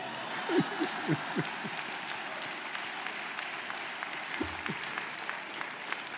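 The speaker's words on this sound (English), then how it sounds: "because Jomani stood up and applauded me." An audience claps steadily throughout a New York City mayoral address, a dense wash of applause with a few louder claps near the start.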